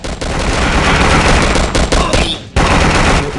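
Enemy gunfire in the Vietnam War shooter Vietnam 2: Special Assignment, loud dense bursts of rapid shots with a brief gap before the firing resumes.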